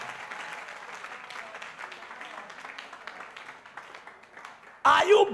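A church congregation at a covenant service claps as a clap offering, fairly faint and scattered beneath a speaking voice, with a brief loud burst right at the end.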